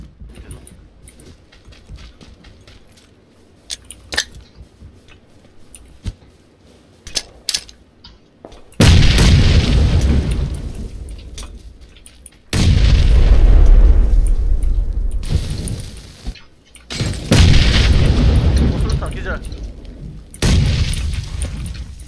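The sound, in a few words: grenade explosions in video game PlayerUnknown's Battlegrounds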